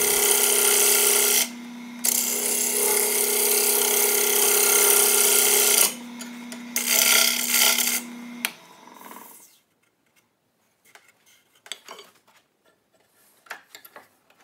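A wood lathe spins a reclaimed wood bowl while its outside is finished, giving a loud, steady whirring hum with a brief break, which cuts out after about nine seconds into quiet scattered taps and handling.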